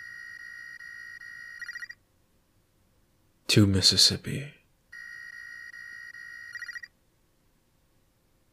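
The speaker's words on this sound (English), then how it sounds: "it was the phone." A telephone rings twice in repeating electronic trills, each lasting about two seconds with a silent gap between. Someone speaks in the pause between the rings.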